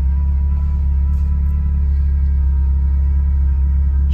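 1980 Ferrari 308GTSi engine idling after a cold start, a steady loud low rumble that holds unchanged throughout with no voices.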